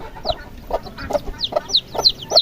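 Mother hen and her chicks on a backyard farm give off repeated short clucks and high chirps, about a dozen calls in a steady, close rhythm with no talk over them.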